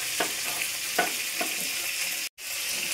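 Fish coated in ground spices fry in a pan, giving a continuous sizzle broken by several soft crackling pops at regular intervals and one brief cut-out near the end.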